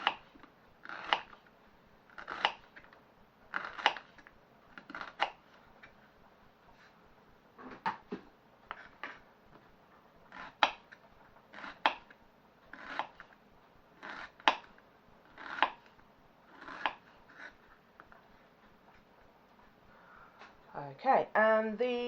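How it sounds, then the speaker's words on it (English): A knife slices a red pepper in half and into strips on a chopping board, giving steady, evenly spaced crisp cuts close by, with a brief voice at the very end. "we cut it in half and then we just slice"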